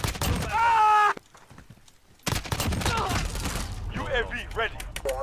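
Rapid gunfire bursts in a multiplayer shooter video game firefight crackle in short clusters, interleaved with game voice callouts and brief quiet gaps.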